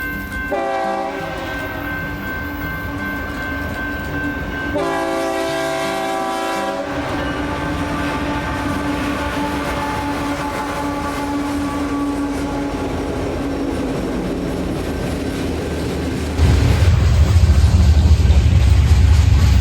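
A loaded coal freight train rolls past, opening with loud, sustained horn blasts, then a steady close rumble of wagons that swells louder near the end.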